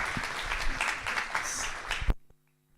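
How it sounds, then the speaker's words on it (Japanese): Audience applause closing a conference session: dense, steady clapping from a crowd for about two seconds, then cutting off abruptly into near silence. "じゃあ皆さん最後に大きな拍手をお願いします"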